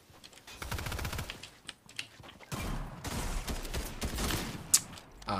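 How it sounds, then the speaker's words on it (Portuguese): Automatic gunfire from a video game rattles in dense, rapid bursts for several seconds during a livestream, loud and sustained with a few sharper cracks standing out. "De onde tá vindo os tiros?"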